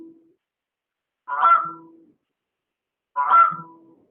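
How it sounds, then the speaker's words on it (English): A goose sound effect plays back twice from a program, each a clear, close honking call about two seconds apart, with silence in between. "Let's just push this here so it makes the goose sound first."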